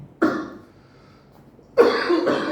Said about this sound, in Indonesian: Aduh saya batuk-batuk nih.